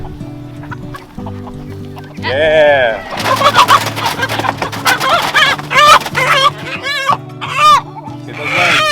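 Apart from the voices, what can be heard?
rooster clucking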